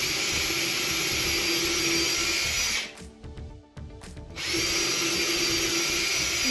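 A power drill bores holes in wood for a bench, whining loud and close, stopping briefly midway with a short clatter before whirring up again at full speed.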